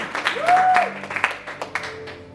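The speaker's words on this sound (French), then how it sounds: "on peut acclamer" Brief burst of audience applause and cheering at a worship gathering, mixed with a whistle-like tone and scattered shouts, fairly loud and close.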